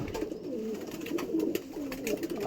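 Paired pet pigeons coo in a loft, low rolling coos repeating closely and overlapping, with a few faint chirps and no talk.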